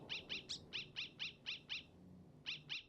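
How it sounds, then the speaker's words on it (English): The Undertale dog sound effect heard in Deltarune: a quick series of bright, identical chirpy yaps in a steady rhythm, about nine in a row, a short pause, then two more, clear and alone. "So that's the dog sound from Undertale."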